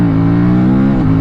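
Aprilia Tuono 457 motorcycle engine revving hard for a wheelie, a loud, close, steady engine drone with a slight pitch dip near the end of a very short burst.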